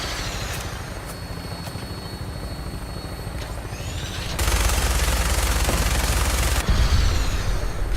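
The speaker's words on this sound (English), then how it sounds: "That minigun in front of you is loaded and ready to fire." In Fallout 4, a helicopter rotor drones steadily and loudly. Partway through, a mounted minigun opens up and adds a dense, continuous roar of rapid fire that lasts to the end.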